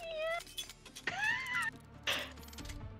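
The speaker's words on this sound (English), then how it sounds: "She's got the like teeniest little meow." Several small, high, thin meows from a tiny cat, fairly close, with a short bright mew near the start, a longer rising-falling cry in the middle and another brief call later, over faint room noise.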